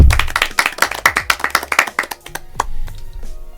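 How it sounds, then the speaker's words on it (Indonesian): A small group claps in a quick, uneven burst on an Indonesian school podcast, celebrating high-achieving students; sharp close hand claps fade out after about two seconds into quieter room sound. "Tepuk tangan dulu dong."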